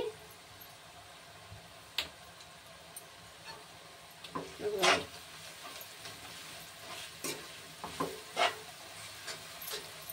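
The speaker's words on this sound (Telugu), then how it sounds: "ఒకసారి ఫ్రై అవనిద్దాం." Two spoons of chili powder frying in a pan for a cashew-paste curry give a faint, low sizzle. Scattered spoon clicks and scrapes rise in a short burst midway.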